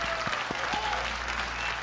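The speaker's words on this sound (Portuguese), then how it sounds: "Palmas para o professor." A television studio audience applauds a guest professor, a brief steady burst of many hands clapping under a low background hum, moderately loud and close.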